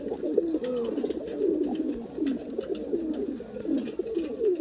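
Female pigeon cooing in soft, continuous rolling coos at close range, with other birds in the loft adding a steady low murmur behind it.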